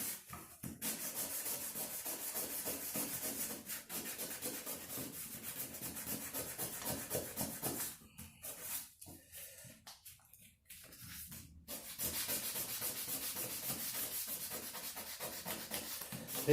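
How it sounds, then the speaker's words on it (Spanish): Continuous rubbing of 1000-grit sandpaper worked over a craft piece in long, firm strokes, steady and fairly close, with a brief pause partway through before the scratchy sanding resumes. "Ahí estaríamos bien con la lija, con la lija número 1000."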